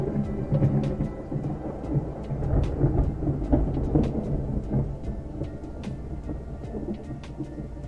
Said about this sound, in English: brace your ears for another lightning strike